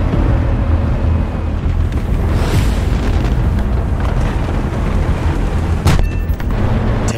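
A huge bomb explosion in the War Thunder video game, heard as a sustained, loud, low-heavy roar and rumble that fills the whole stretch, with a brief sharp crack near the end and no speech.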